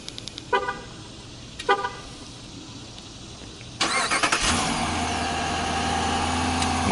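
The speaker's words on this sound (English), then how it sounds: "So I'm going to go ahead and start it up because it does have remote start." A remote-started 5.7-liter Hemi V8 in a 2015 Jeep Grand Cherokee Overland: two short chirps, then the starter catches and the engine roars up before settling into a steady, close idle.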